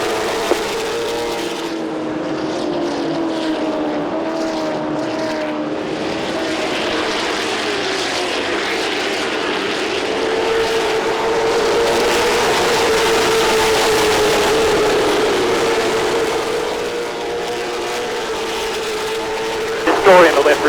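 A race car engine roars steadily on the North Wilkesboro track, a loud sustained drone that swells and eases as the throttle changes, with a driver talking over the radio at times.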